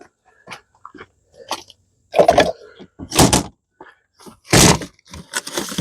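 Hammer blows strike Kawasaki FB460v engine parts during a teardown of a blown engine, several loud metallic whacks at irregular intervals with quieter handling clatter between them, no talk.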